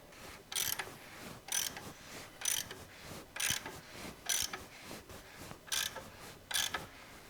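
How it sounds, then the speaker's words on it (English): The crankshaft of a Flathead Ford V8 is turned by hand, giving a steady series of about ten brief ratcheting, grinding clicks at an even rhythm, quiet and close, with no talking. "so now turn the crank a little bit"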